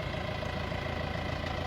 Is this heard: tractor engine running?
yes